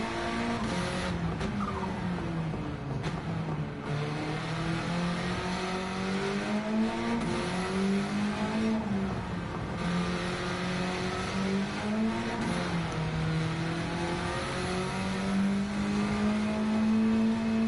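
Engine-swapped race car in Gran Turismo 7 during a lower-class race, its engine droning steadily and climbing and falling in pitch through gear changes, with brief tire squeals, loud and continuous throughout.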